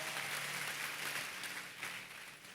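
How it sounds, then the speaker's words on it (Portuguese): Dense, steady applause from a church congregation fills the room for a few seconds at an even, moderately loud level. "Pode dar uma salva de palmas"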